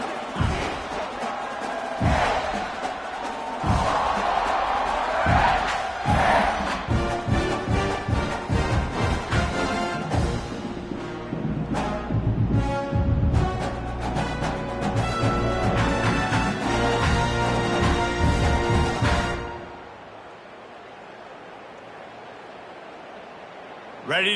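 A home crowd at a Bears football game roars after a touchdown, a dense, loud, sustained wash of cheering under a commentator's voice that fades out near the end.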